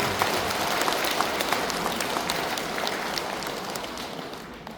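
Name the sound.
congregation applause at a Buddhist service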